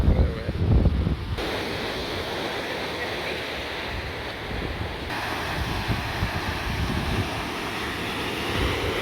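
Strong wind roars across Corralejo's beaches with surf rumbling beneath, a loud, constant blustery rush with heavy buffeting against the microphone and a brief burst of low thumps at the start.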